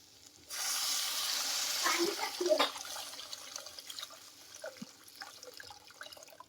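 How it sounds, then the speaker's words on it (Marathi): Water pours steadily for a couple of seconds into a cooking pan holding ground onion, coconut, garlic and ginger paste, then gives way to light sizzling and small clinks close by. "त्यामध्ये टाकते मी थोडं पाणी"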